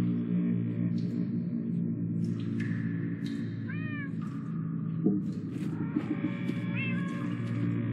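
Several cats meow from a Minecraft Story Mode scene, short rising-falling calls scattered over a steady low hum of game ambience, with no talking.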